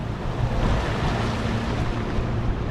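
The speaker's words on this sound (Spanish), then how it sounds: "Ahí también está una lancha pescando." A motorboat out on a river while fishing near Concordia, Argentina, heard as a steady low engine rumble mixed with wind buffeting the microphone and lapping water.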